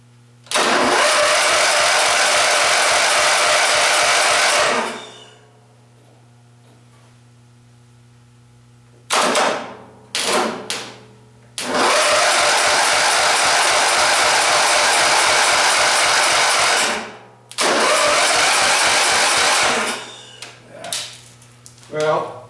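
A small gasoline engine fed from a temporary gas tank fires up and runs loud and close in several bursts, stalling into near silence between runs and restarting, with a steady rattling, buzzing beat while it runs.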